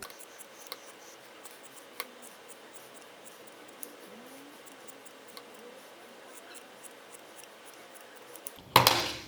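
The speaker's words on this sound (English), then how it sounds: "trim it with your scissors so it looks nice and neat in the shape you want" Scissors trim a yarn pom-pom in quiet, sparse snips over a soft room hiss, ending with a brief louder rustle up close.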